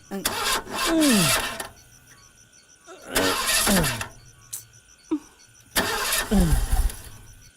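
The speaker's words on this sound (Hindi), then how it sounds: "अरे वाह, गाड़ी स्टार्ट नहीं हो रही है।" A car engine cranks in three separate strained bursts of starter whirring, each fading out without catching, with quiet gaps between the attempts.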